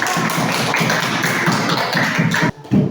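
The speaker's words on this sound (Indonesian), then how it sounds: "Silakan beri aplaus untuk kelompok." Classroom applause for a student group that has just presented, a dense burst of many hands clapping close by that cuts off briefly near the end and then resumes.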